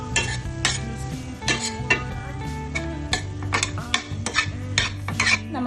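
Broccoli soup ingredients with almonds and pepper are stirred in a pan: repeated clinks and scrapes of a utensil against the metal, close and fairly loud, over a soft sizzle and a faint tonal background.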